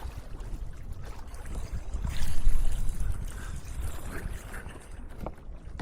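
Kayak paddling through water in a mangrove forest at Kemmannu, with close splashing and dripping that rise and fall over several seconds.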